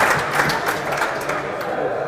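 A handball crowd at a four-wall men's final breaks into brief applause and cheering, a dense short burst of clapping filling the room.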